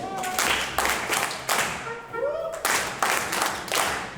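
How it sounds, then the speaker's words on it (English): Rhythmic soul clap with syncopated accents at a Harlem exhibition celebration, sharp claps landing in an offbeat pattern, close and fairly loud, with a voice talking and singing over the top. "See, it's a soul clap and syncopation."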